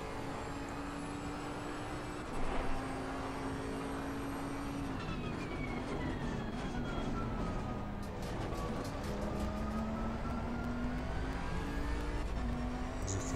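Race cars roar around Misano in Assetto Corsa Competizione, a Porsche among them, with steady loud engine drone and rising and falling revs through gear changes, continuous and close throughout.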